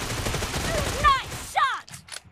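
Rapid gunfire bursts from a Groza rifle in BGMI crackle near the start, followed by sharp chirping effects and quieter shots as the burst tails off.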